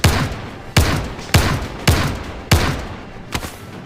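Shotgun blasts in a shooter video game, Zero Caliber, five heavy booming shots at roughly even spacing, each with a short decaying tail, followed by a fainter sixth thump.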